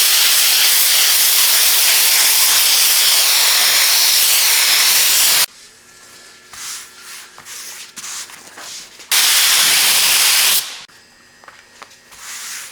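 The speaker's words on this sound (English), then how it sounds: "Any spray gun will do" A spray gun spraying glue onto camper upholstery foam hisses loudly in two long bursts, separated by quieter rubbing and shuffling sounds.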